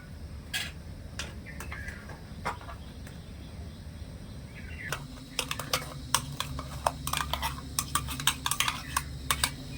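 Mango paste being stirred into thickened milk in a pan, with a run of light spoon taps and scrapes that grows busier and more rhythmic halfway through, close and fairly quiet, no talking.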